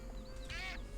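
A duck gives a single short, nasal quack in the video game Escape from Monkey Island, heard over a steady hum of game music and ambience.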